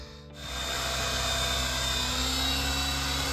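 RC helicopter idled up for flight, its rotor and motor rising from a brief lull into a loud, steady high-pitched whine with a constant buzzing drone, close and continuous with no talking.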